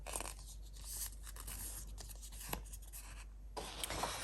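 Hand-traced, cut paper for a planner kit being folded up close: soft, quiet rustling and light creasing scrapes, a few sharper crinkles, with no talking.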